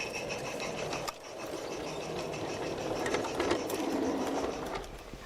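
Model mixed train on a light railway layout rumbles steadily along the track, a continuous close, moderately quiet rolling clatter with faint rhythmic rail-joint clicks and no voices.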